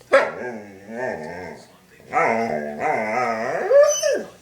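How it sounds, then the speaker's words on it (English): A dog barks and howls close by in drawn-out, wavering yelps, several bursts in a row with a rising whine at the end. "Don't bark."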